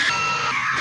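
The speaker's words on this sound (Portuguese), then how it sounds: "cadê o grito de ansiosa?" A child screams excitedly, a single sustained shrill scream that is loud and close, with no other talking.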